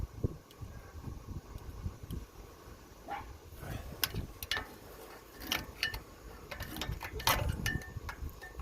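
Metal pry tool working front brake pads into the caliper on a 2007 Toyota Tundra V8, giving close, irregular clicks, scrapes and ratcheting knocks in short bursts with no talk.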